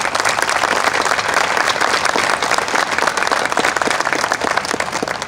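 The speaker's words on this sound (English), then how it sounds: "If you could please give them a round of applause." A large audience gives a sustained round of applause for the lead contributors at a capital campaign gathering, thick continuous clapping held at an even level throughout without pause.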